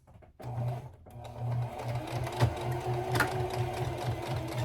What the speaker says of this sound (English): We're going to straight stitch this, and here we go.